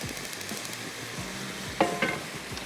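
Kebab karahi cooks in a pan on the stove, giving a steady hiss of sizzling oil with a couple of louder scraping stirs near the end.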